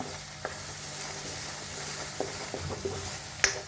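Coriander powder and garam masala stirred into rajma masala frying in a pan, a soft continuous sizzle under occasional scraping strokes and a sharp clink near the end, no talking.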